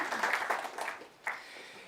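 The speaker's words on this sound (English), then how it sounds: "And I think that calls for an applause" Applause from a conference audience fills the room at a moderate distance, a dense patter of many hands that thins and dies away toward the end.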